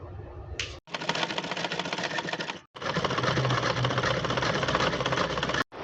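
A sewing machine stitches a belt onto a dhoti skirt in two long, fast, even runs of rapid clattering, separated by short stops, close and loud with no voices.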